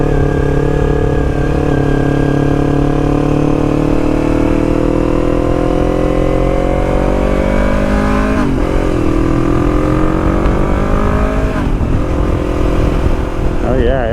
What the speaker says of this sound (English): you can tell it's a 300cc engine